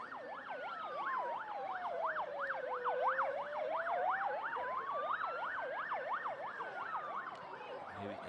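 A wailing ambulance siren, sweeping up and down in a fast yelp over a slower rising and falling tone, sounds at moderate distance across a girls' school rugby match, steady for the whole stretch with no talk.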